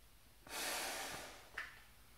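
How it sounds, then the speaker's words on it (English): A person draws a long, close breath through a homemade DIY gas mask with slight airflow restriction, a hissing inhale lasting about a second, then a brief sharp sniff-like puff, with no talking. "Not the best, but I can breathe in it."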